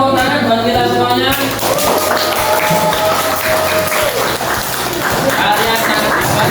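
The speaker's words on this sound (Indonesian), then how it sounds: "semuanya tepuk tangan buat kita semuanya" Students in a classroom clap together, loud continuous applause mixed with crowd noise and overlapping voices that runs through the whole stretch.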